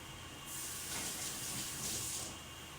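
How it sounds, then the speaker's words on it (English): Hands being washed under a running kitchen tap after handling potato, a steady soft stream of water rising for about two seconds in the middle, fairly quiet with no talking. "I am going to wash my hands"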